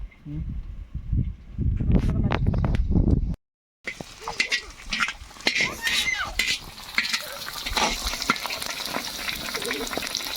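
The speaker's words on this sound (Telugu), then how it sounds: "ఇప్పుడు ఉల్లిగడ్డలు ఉడికేసినాయి, పచ్చిమిరకాయలు కూడా బాగా వేగినాయి" Onions and green chillies fry in a pan with a steady sizzle. A spoon scrapes and stirs against the pan, loud at first, then a brief silence, then softer sizzling and clinking as someone talks nearby.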